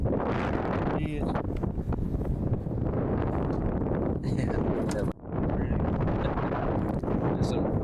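Strong wind buffets the microphone outdoors at night on a coyote hunt, a constant low roar with gusty surges and one brief lull, while faint voices sit beneath it.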